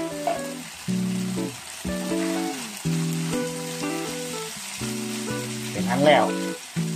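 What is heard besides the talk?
stir-frying frog stomach with holy basil in a pan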